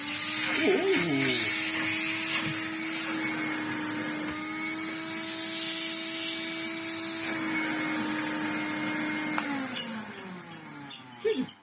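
A Hoover Hooverette 2944b vacuum cleaner runs steadily with its hose attached, a loud close whine with a constant hum throughout, under a man's speech, ending with a few clicks.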